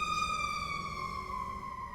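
An ambulance siren wails steadily in the city, a loud sustained tone sliding slowly downward in pitch as it passes, with faint traffic rumble beneath.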